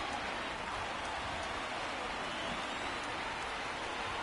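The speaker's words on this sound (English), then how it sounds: "the rain starting to intensify here. It's coming down a little heavier now." In the MLB 19 baseball video game, rain falls steadily on a ballpark, an even, continuous hiss without pauses or voices.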